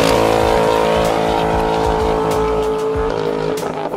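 A 1968 Mustang with a Flowmaster Delta Flow 50 custom dual exhaust revving hard, a loud, raspy engine roar held close and steady throughout with slight surges near the end.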